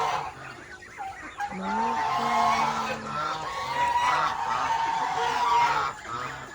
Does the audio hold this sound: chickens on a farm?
yes